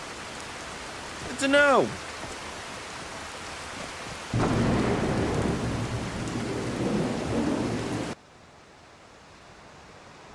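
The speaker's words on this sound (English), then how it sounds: "Didn't know it was raining." Steady rain with rumbling thunder in Skyrim Anniversary Edition, a rising tonal chime near the start, and a voice briefly speaking before the sound drops away.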